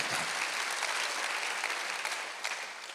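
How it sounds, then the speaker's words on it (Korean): Steady applause from a church congregation during a Sunday service fills the whole stretch, dense clapping at an even level with no voices breaking through. "박수 한번 주세요."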